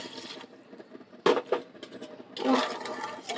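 Water poured from a large cup into a pan of sugar to make syrup for ros bora, heard as a couple of short splashy pours and then a fuller gushing pour near the end, close by.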